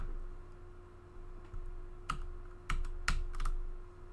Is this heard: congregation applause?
no